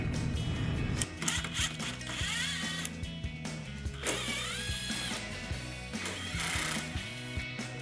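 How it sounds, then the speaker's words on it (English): Power tool, such as an impact driver or ratchet, whirs in short repeated bursts while backing out 10 mm nuts on a crankcase vent solenoid of a HEMI Charger, working close up with brief pauses between runs. "I'm going to use a power tool"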